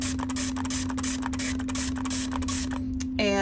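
A steady aerosol hiss sprays into a soy wax candle jar for about three seconds over a low background hum, then cuts off, and a brief tonal sound follows.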